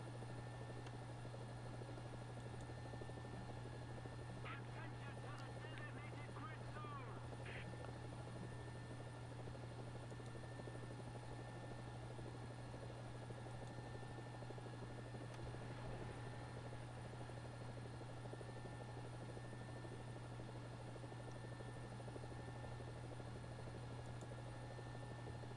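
Mi-28 Havoc attack helicopter flying in War Thunder, a steady droning rotor and engine hum holding constant at moderate level throughout, with a few faint clicks and no speech.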